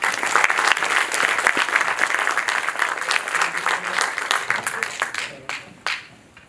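An audience at an innovation demo day investor panel claps for a speaker, steady dense applause filling most of the stretch before tapering off to a few scattered claps at the end.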